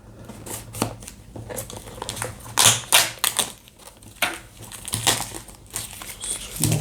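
Chromecast 3 box packaging being torn open by hand, a run of close, sharp papery rips and crinkles in irregular bursts with no talking.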